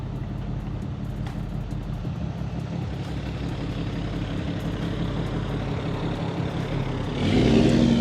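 A car drives along a quiet neighborhood street near East River Drive, its engine a steady rumbling hum that grows louder and nearer toward the end as it passes.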